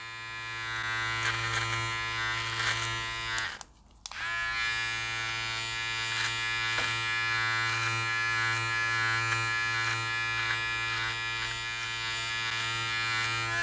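A Powertec TR-758 beard and neck trimmer runs with a steady electric buzz that cuts out for a split second before resuming, close and continuous with no talking.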